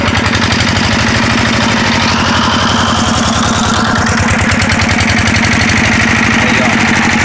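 A homemade small tractor engine runs loud and close, its steady rapid firing pulses continuing throughout with a rough, knocking idle that rises slightly as the throttle opens.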